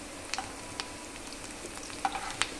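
Onions frying in oil in a pan for a chicken fry dish, giving a steady close sizzle with light stirring clicks and scrapes throughout, and no voices.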